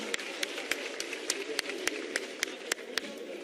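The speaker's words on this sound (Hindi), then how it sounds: "सब मिलकर जोरदार तालियों से श्री अर्जुन मेघवाल जी का करें सम्मान।" An audience at a public event in Jaipur, Rajasthan applauds in honour of Arjun Meghwal: a hushed crowd murmur under about a dozen distinct sharp claps at fairly regular intervals, mid-distance and fairly faint.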